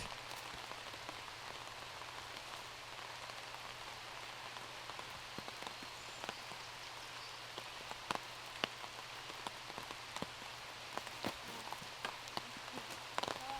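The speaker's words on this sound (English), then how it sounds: "The rain, you could just kind of feel it on this card." Rain falls outdoors during a disc golf tournament round at the 2018 Beaver State Fling, a soft, steady patter with scattered sharper drops ticking nearby, fairly faint and with no talk.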